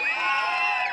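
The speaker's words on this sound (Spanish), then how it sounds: "¡Aplausos para la de amarillo! ¡La de plateado! ¡La de coral!" A wedding crowd cheers and whoops in a loud, steady wash of voices, with a few higher shouts rising above the rest throughout the second.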